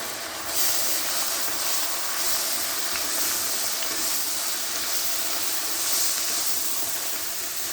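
Ginger paste, garlic paste, garam masala and chili powder fry in hot oil for mutton biryani, a steady broad sizzling hiss that holds evenly throughout with no voices.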